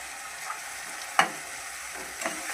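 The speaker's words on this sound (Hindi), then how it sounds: "और इसे अच्छे से चलाते हुए हम फ्राई करेंगे" Onion paste and tomato puree for a shahi paneer gravy being stirred and fried in a pan, a steady soft sizzle broken by a few sharp scrapes of the spoon, close up, with no talking.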